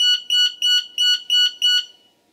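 A 6th Sense International intruder alarm's entry timer sounds six sharp, evenly spaced high-pitched beeps, loud and close, with no talk.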